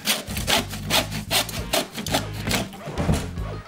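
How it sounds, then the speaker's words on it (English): Wooden lattice being cut with a miter cutter while building a wine rack makes a series of rhythmic rasping strokes, about eight close, evenly spaced scrapes of blade on wood. "We start by cutting our piece of lattice to one side of the centre batten."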